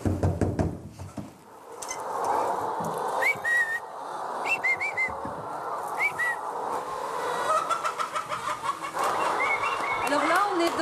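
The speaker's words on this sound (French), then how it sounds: "dans un élevage de poules dites au sol, le modèle de base en Suisse" Hens in a Swiss floor-rearing barn cluck and chirp, with sharp high calls rising over a steady murmur of many birds; there are occasional knocks.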